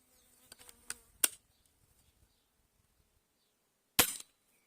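Shots from a Blow H-01 air pistol firing Soviet Diablo pellets: a few small clicks and ticks, then one sharp, close crack near the end, separated by quiet.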